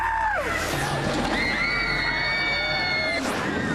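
Loud, sustained screams from a group of riders, high-pitched and overlapping, over a rumbling ride and crowd noise.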